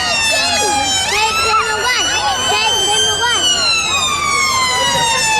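A loud wailing EMAS ambulance siren sweeps up and down continuously, close and dominant, with a second siren tone layered over it, at an emergency services day at Wicksteed Park.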